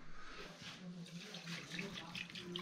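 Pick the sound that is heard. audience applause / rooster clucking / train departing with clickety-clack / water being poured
water being poured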